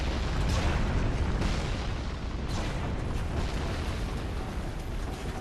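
Ballista bolts launching in Dark Souls III, a loud, continuous rumbling roar with a few deep booming bursts.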